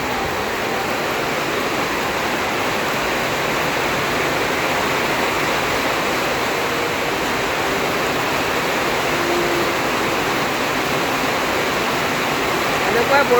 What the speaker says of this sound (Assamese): একদম ডাঙৰকৈ বৰষুণ দিছে।